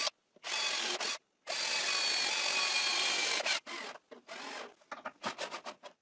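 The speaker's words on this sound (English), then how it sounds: "and I screw it" Screws being driven into the wooden slats of an Adirondack chair with a power driver, heard as two long whirring bursts followed by a string of short, stuttering pulses, close and clear with no talking.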